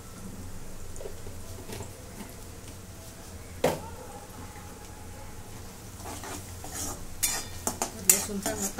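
Garlic frying in oil with cumin in a pan, a faint continuous sizzle under occasional spoon scrapes and clinks that grow busier toward the end, close and without talk.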